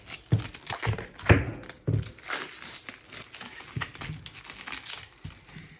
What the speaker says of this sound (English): Let's go ahead and unwrap. Got some just like saran wrap type material here.